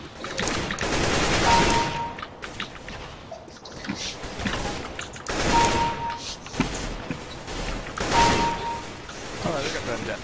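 An FPS video game plays out with repeated bursts of rapid gunfire and impact crashes, loud and close, while people talk over the action.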